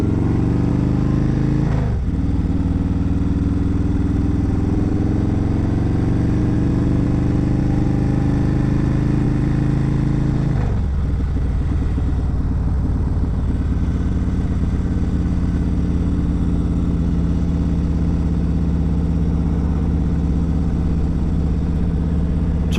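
A Harley motorcycle engine with an aftermarket exhaust pipe and Woods cam idles with a deep, lumpy rumble throughout, briefly revving twice before settling back into a steady loud throb.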